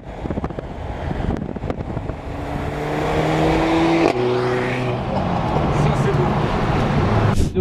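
Mercedes A45 AMG engine in sport mode while driving, a droning note that holds, falls and rises again through gear changes, heard from inside the car under wind noise, with someone talking over it.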